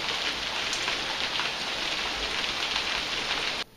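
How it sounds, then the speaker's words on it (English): Heavy thunderstorm rain pouring down hard in a dense, steady hiss of drops on surfaces, loud and continuous until it cuts off at the end. "Did you hear how like the rain just like came down in volume and intensity?"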